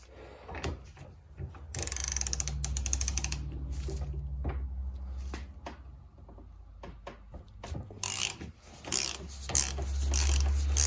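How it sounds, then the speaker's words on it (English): A ratchet with a 21mm socket unscrewing part of a Showa fork on a 2004 Honda CRF250 held in a vise, with bursts of rapid clicking, metallic clatter and handling noises at close range and no talk. "now you take a 21mm socket and you just go ahead and take this right out of here"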